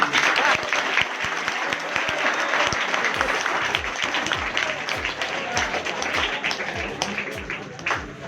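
A school Saraswati Puja audience claps heartily and steadily, a thick wash of applause with a few sharper individual claps standing out, continuing without pause.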